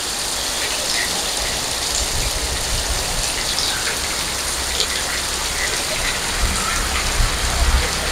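Heavy rain pours down after several hot days, a dense, steady roar of drops that holds constant and close throughout with no pauses.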